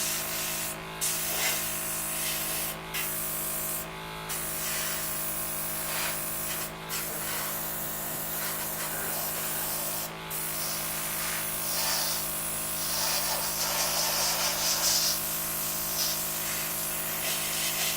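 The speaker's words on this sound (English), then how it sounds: "The spray pattern itself is very nice. I can't see any problems with the trigger." A continuous hissing spray runs throughout, broken by a few short pauses, close and steady against a low mechanical hum.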